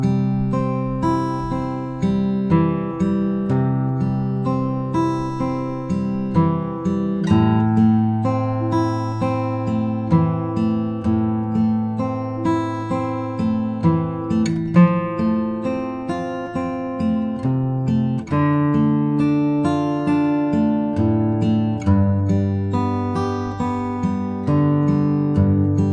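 Fingerstyle acoustic guitar picked in a steady flowing 4/4 pattern, bass notes and treble strings alternating in an even repeating rhythm, close, clear and continuous with no talk.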